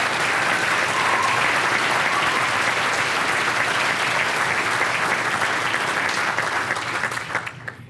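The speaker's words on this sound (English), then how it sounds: "let's all give the finalists a round of applause for the work they've done for their community." A large luncheon crowd applauds the finalists at a regional business awards event, a dense, steady wash of clapping that holds for several seconds at full strength, then thins and tapers away near the end.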